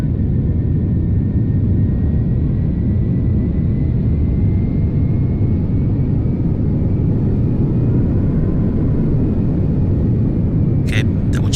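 Airliner in the FSX flight simulator taking off from runway 27 left at Philadelphia: a loud, steady engine roar with deep rumble runs without a break, and no one talks over it.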